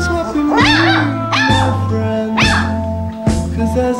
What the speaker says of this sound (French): Les chiots passent ainsi les premiers mois de leur existence aux côtés de leur mère.